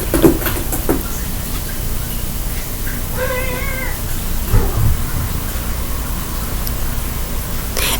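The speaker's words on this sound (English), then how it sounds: "If you couldn't tell, I have cats," Cats meow indoors against a steady background hiss, with one drawn-out harmonic meow in the middle and a few fainter calls around it.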